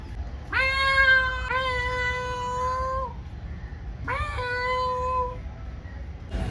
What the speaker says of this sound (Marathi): चल रान मांजर बघू शकता मित्रांनो